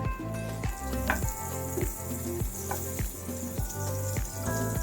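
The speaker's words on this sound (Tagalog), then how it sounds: "tunawin muna natin yung ating unsalted butter" Unsalted butter melts in a hot pan while making shrimp Alfredo pasta in tomato sauce, giving a steady close sizzle and crackle with occasional stirring sounds and no talking.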